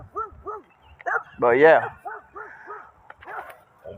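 A dog barks in short repeated yips and woofs, with one longer drawn-out whining howl in the middle, close by, while someone talks over it.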